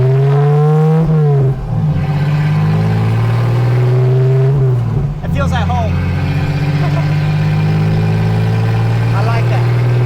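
A Toyota Cressida kaido racer engine revs loudly up and down, its throaty note rising and falling in several surges with a steady rumble between, while someone talks over it.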